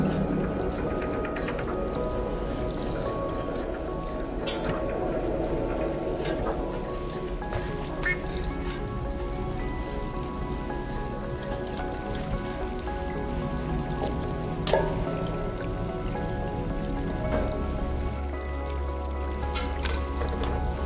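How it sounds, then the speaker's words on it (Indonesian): Steady flowing water in the cat adventure video game Stray, a continuous rushing wash with occasional clicks and drips, held at an even level through the whole stretch with no voices over it. "Macam air mengalir."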